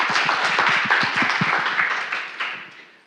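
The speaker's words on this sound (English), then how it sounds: "can you please give them all one more round of applause" A round of applause from a conference session audience, distinct claps near at first, then thinning and fading toward the end.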